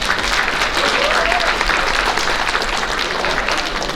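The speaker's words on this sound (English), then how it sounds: "Give these JV teams a round of applause." An audience at a school athletic banquet applauds the JV teams with a steady, loud, dense wash of clapping that lasts throughout.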